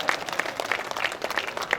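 Short burst of crowd applause at a BJP party workers' rally, a busy mix of many hands clapping at close range with a few louder claps standing out, brief and steady.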